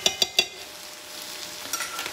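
A spoon stirs food in a cooking pan, three quick scraping clinks in a row followed by softer, scattered scrapes over a faint sizzle.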